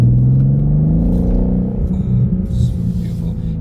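New 2025 BMW M2 G87 engine while driving during its running-in period, a loud low rumble that rises in pitch and then settles, steady and close inside the car, with someone speaking over it.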